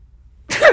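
One allergy sneeze, close and loud, erupts suddenly after quiet and fades within a fraction of a second.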